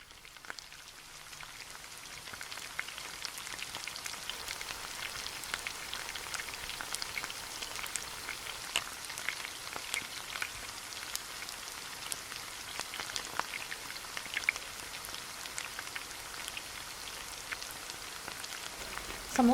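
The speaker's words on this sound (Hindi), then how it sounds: "तो चलिए अब हम इसको डीप फ्राई करते हैं।" Samosas deep frying in hot oil, a steady, dense crackling hiss with scattered sharp pops, fairly faint and continuous with no talk.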